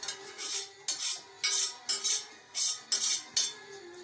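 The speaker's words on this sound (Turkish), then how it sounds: "Şöyle dibini de alalım ki lezzetli yerleri tencerenin dibinde kalmasın." A metal spoon scrapes around the bottom of a pot in quick repeated strokes, with brief gaps between each scrape and no talking.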